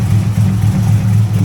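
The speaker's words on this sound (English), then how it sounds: "it's just spiking revs by itself. I'm sure it'll do it again right now." A Chevrolet Camaro engine with a misfire and suspected exhaust leak, running loud and close with a deep, pulsing rumble as the revs rise and fall on their own.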